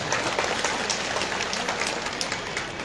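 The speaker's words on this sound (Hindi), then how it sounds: "उनके लिए जोरदार ताली आप सभी लोग बजा दें एक बार" Crowd clapping at a political rally in Jharkhand, a dense, steady wash of applause that holds evenly for the whole stretch with no voices over it.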